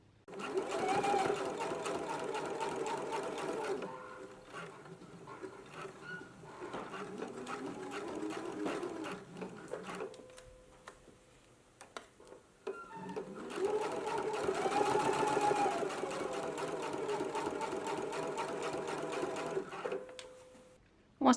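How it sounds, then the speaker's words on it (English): A sewing machine runs in two long bursts of straight-stitch edge stitching around the neckband of a McCall's 8354 garment, a steady close mechanical whir with a short quieter pause between the runs. "So let's go ahead and do the edge stitch now."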